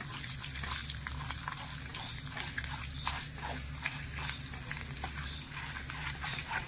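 Cumin seeds with toor, chana and urad dal frying in oil in a pan, a steady close sizzle with rhythmic bubbling crackles and light stirring throughout, no voices.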